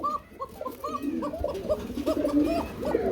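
Fancy pigeons coo in a repeated rhythmic series of soft, throaty calls at close range, several birds overlapping steadily throughout.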